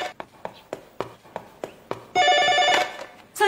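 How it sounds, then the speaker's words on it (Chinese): A telephone rings in a domestic TV-drama scene: a series of short regular ring bursts followed by a longer sustained electronic ring, fairly loud and close, with no talk over it. "这怎么一有电话来，他就觉得是桑岩打来的呀？"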